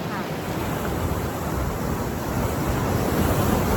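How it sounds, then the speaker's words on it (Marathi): On a rocky coast in Konkan, sea waves crash and churn against the rocks in a steady, loud roar of surf, with wind buffeting the microphone throughout. "इकडे फक्त खडक आहेत भरपूर, यांना आपटून आपटून पाणी येते"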